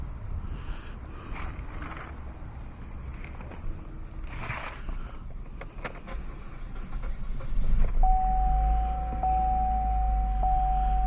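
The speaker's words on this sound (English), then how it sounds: "I'm going to go ahead and start the vehicle up so the water pump can start circulating that coolant through the engine." A Chevy Cruze engine, refilled with coolant after a water outlet housing replacement, starts about eight seconds in, then settles into a steady idle with a low rumble and a thin whine. Faint shuffling and handling noises come before it.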